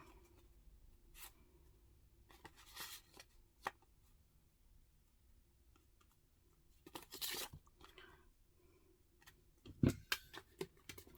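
Scissors cutting scrap card in a crafting setting: a few faint, scattered snips and crisp crunches spread across a quiet background, with occasional brief louder rustles.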